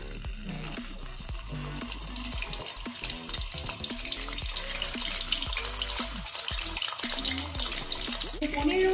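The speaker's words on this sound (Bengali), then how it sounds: "শুধু পনিরটাকে ছুরির সাহায্যে কেটে নিয়েছি আর তেলের মধ্যে ভাজছি" Paneer cubes frying in hot oil for panir kabli, a dense continuous sizzle with crackling and bubbling that grows slightly louder over time, close up, with faint voices in the background.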